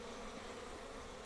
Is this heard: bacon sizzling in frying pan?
no